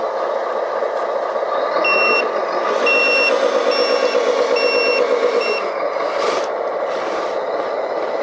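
An RC model water truck on an asphalt repair job backs up, giving a steady series of evenly spaced, loud reversing beeps over a constant motor whir, close by.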